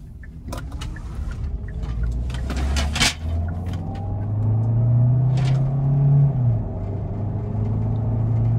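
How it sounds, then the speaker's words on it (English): A 2021 Kia Sorento Hybrid drives on the road with a low, steady cabin rumble and a rising motor whine that settles back down. Several short knocks and rattles come from loose items inside the car. "we're going to go ahead and take this Kia Sorento Hybrid out on the road for a quick test drive."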